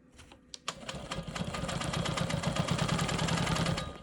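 Sewing machine stitching a rolling stone quilt block, its motor running in a steady, fast mechanical whir that builds after a couple of brief clicks and holds close and loud throughout.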